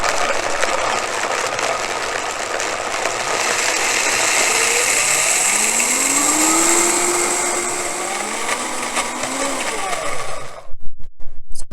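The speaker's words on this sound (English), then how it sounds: "Blend that up until you get a very, very creamy consistency" A high-speed blender purees soaked cashews into cream with a loud, steady whirring roar. Its pitch shifts and drops gradually as the mixture thickens, then it switches off near the end.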